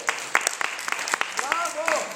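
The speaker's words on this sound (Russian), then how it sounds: "Аплодисменты." Brief, thin applause from a concert audience at a composer's evening in Moscow, scattered claps under a voice talking nearby.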